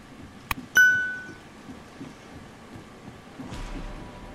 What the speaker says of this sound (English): I heard a chime, so that should be it.